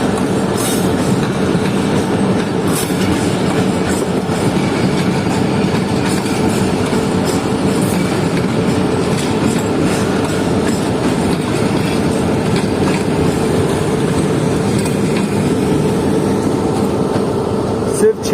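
A GMU15 diesel locomotive hauls its train past on the Sindh line, a loud continuous rumble with clattering wheels and rail noise, heard close and steady throughout.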